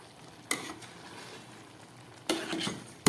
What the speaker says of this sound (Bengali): এটাকেও খুব ভালো করে আমি খিচুড়ির সঙ্গে মিশিয়ে নিচ্ছি